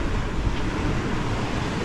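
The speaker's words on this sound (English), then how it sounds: "It's quite a breeze blowing, about 20 knots." Strong wind of about 20 knots while sailing on the South Pacific, a loud constant rushing roar with low buffeting rumble from gusts over the boat and water.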